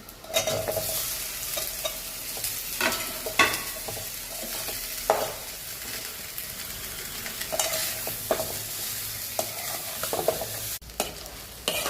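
Potatoes sautéing in a pan with chilli powder, turmeric, salt and asafoetida for a South Indian potato fry, a steady close sizzle broken by repeated scraping stirs of a spoon, with no talking.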